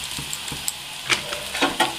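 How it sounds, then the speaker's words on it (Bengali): Chopped onion and green chilli frying in oil, then ginger paste added: a close, steady sizzle broken by quick scraping and clicking stirring strokes, with no voices. "পেঁয়াজ আর কাঁচা লঙ্কা কুচিয়ে রেখেছিলাম, ভালো করে ভেজে নিচ্ছি"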